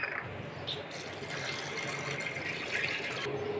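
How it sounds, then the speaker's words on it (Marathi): Toor dal (pigeon pea lentils) being rinsed in water, with a soft, steady swishing and splashing that runs continuously at low volume. "तर आपण हिला छान आता 1-2 पाण्याने स्वच्छ धुवून घेणार आहे"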